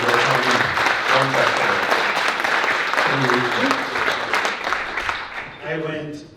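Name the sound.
audience applause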